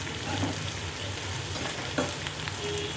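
A spoon stirs spiced dry potato sabzi in a pan, giving a continuous gentle frying sizzle with soft scraping and a sharp clink near the middle, no voices.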